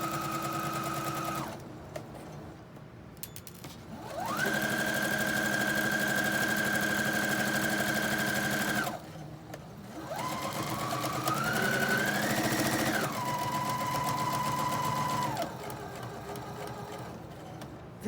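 A sewing machine stitches a pillow seam in several sustained whirring runs, with short pauses between them and the speed shifting from one run to the next.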